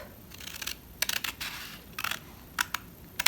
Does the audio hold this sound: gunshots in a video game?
no